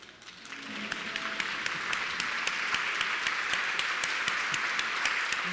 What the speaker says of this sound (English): please stand up and let us applaud you